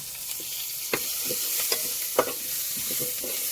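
Shallots fry and sizzle in a clay pot on a village stove for Kerala kilimeen fish curry, with a steady hiss broken by several sharp scraping knocks of stirring, close and alone without talk.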